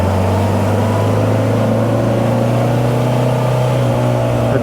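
A 1967 Morris Minor engine running smoothly, a steady close idle hum with strong low tones and no talking over it.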